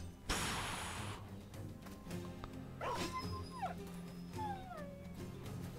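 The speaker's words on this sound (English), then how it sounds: "Armored war dogs." Armored war dogs in the video game Battle Brothers, a burst of sharp yips and whimpering barks over faint game ambience, mid-distance and moderately quiet.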